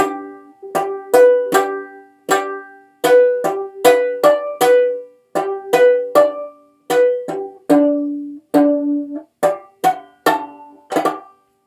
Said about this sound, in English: The last little bit is your harmonics.